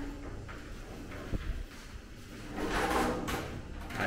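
Rattling and thumping of a locked apartment door handle being tried, a couple of sharp clunks then a longer scraping push, close and moderately loud in a quiet hallway.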